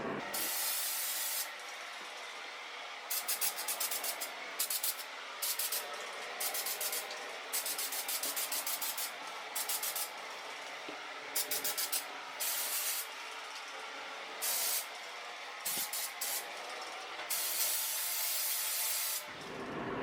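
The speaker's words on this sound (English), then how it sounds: "I have sprayed down the plants with that Dr. Doom spray" Pest control spray is misted over houseplants indoors, a close, loud hiss repeated in bursts of short pumps separated by brief pauses, with no talking.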